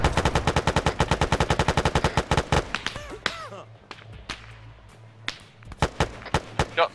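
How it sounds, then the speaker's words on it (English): Gunfire in a military video game: a rapid automatic burst of close, loud shots for about two and a half seconds, then a pause and a handful of scattered single shots echoing afterward. "Shots from the northeast."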